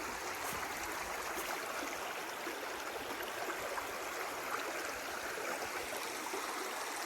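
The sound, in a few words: creek water flowing over a rock bed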